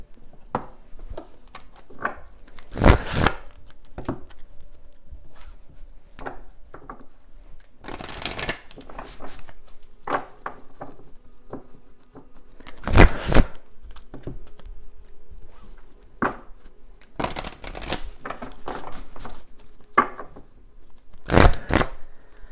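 Oracle card deck being shuffled by hand, crisp riffling bursts and soft flicks in irregular clusters, close and fairly quiet with pauses between shuffles.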